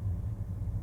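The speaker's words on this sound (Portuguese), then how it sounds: "o motor já mudou um pouco, né? Você já escuta ele menos." A Volvo XC90 T8 AWD plug-in hybrid idles in Hybrid mode, giving a low, subdued engine rumble that pulses gently through a brief moment with no speech.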